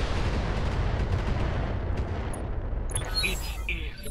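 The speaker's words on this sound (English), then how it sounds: "I sense a soul in search of machine gun fire." Heavy weapon fire in the Battletech video game, a dense, rumbling barrage of rapid blasts, loud and continuous, thinning toward the end as higher-pitched effects cut in, with a voice speaking over it.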